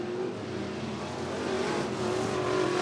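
IMCA Sportmod race cars run a speedway heat race, their engines droning at a moderate distance as a steady, rising and falling roar with broad track noise and no talk over it.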